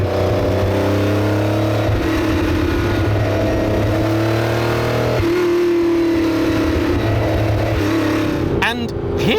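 A 1977 Ferrari 512 BB engine pulls hard while driving, a loud sustained drone that climbs in pitch through the gears, with a brief shift dip midway, heard from close by inside the car.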